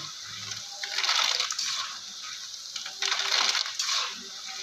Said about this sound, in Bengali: দেখো ঝনঝন করে আওয়াজ হচ্ছে মানে আমার ভাজা হয়ে গেছে